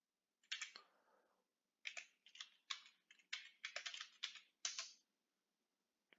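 Keys tapped on a computer keyboard while a password is entered on a Linux system, quick close clicks in short bursts and clusters separated by silent pauses, with no voices.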